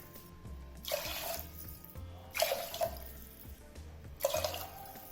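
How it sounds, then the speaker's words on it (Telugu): Water is poured in three separate splashing bursts onto washed moong dal and rice in a vessel, and each pour is a short, close rush of water with quiet gaps between. "ఇప్పుడు వాటర్ వేసుకుందాము."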